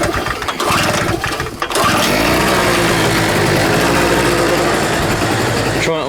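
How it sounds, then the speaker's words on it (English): A small portable generator engine sputters and catches, then runs at a steady, loud, buzzing drone close by, with a voice briefly heard near the start. "Maybe this generator's not man enough."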